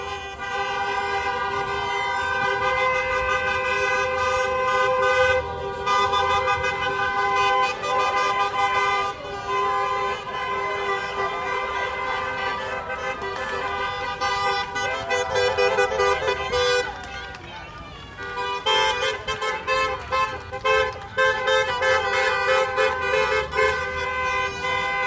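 Cars honking in a hospital thank-you parade outside a Staten Island emergency room, with repeated loud toots and sustained horn blasts overlapping from several vehicles in a continuous stream, and talk mixed in.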